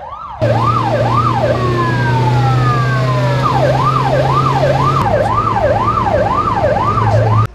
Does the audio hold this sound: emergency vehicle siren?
yes